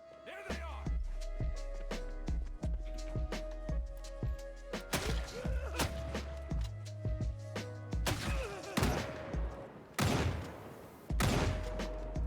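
Gunfire crackles back and forth in the zombie survival game Project Zomboid, with sharp repeated shots, several loud bursts and a pulsing game soundtrack underneath.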